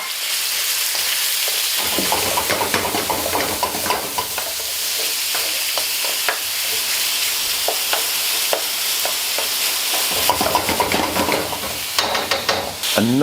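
Chicken frying in a very hot pan with a little water left in it, a loud, dense, continuous sizzle with crackling spatter and occasional stirring scrapes, close up.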